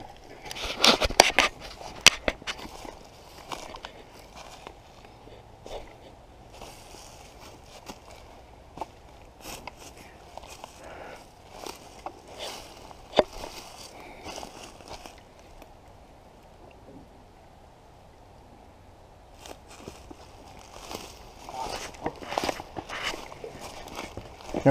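Soft crunchy footsteps on gravel or dry ground, steady and close, with quiet stretches and a few louder scuffs.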